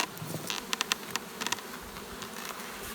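Honey bees buzz around a tipped-up hive box in a low, steady hum, nearby and fairly quiet, with a few sharp taps and knocks of the box standing out.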